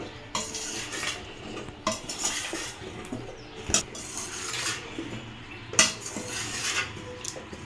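Raw banana slices tossed with masala in a metal bowl for Chettinad vazhakkai varuval, close clinks and scrapes of a spoon against the bowl coming in irregular bursts, with no talk.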